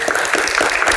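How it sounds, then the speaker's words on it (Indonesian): A studio audience at a televised campus Q&A show bursts into loud, dense applause, many hands clapping together in a continuous close roar. "Tepuk tangan untuk teman-teman mahasiswa yang ada di Jakarta."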